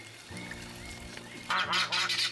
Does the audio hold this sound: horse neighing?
no